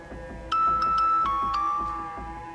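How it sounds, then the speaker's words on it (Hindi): A short phone notification chime plays a quick series of bright ding tones over a low background rumble. "ये पैसे ट्रांसफर की आवाज थी ये तो।"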